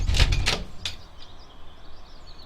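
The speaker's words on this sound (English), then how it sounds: "Indeed, a moment later, the door swung open and Oleana ran out" A door swinging open in an interactive romance video game, a brief loud clatter and thump at the start followed by a fainter creak, then quiet room tone.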